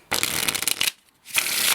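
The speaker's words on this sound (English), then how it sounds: "Say you want to do some ripple shuffles, easy peasy" Ripple shuffles of a Red Tune limited edition playing card deck, two close, crisp riffling bursts separated by a brief pause, with no voices.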